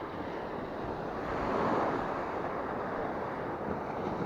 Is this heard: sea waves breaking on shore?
yes